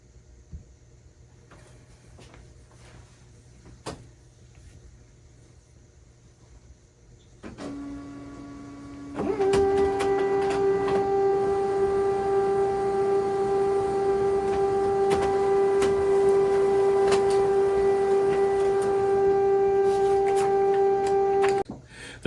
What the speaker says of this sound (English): we'll conduct a wireless printing speed test using the HP Smart app